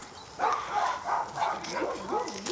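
A dog gives a run of short, wavering yelps and whimpering barks at close range, with a faint voice in the background.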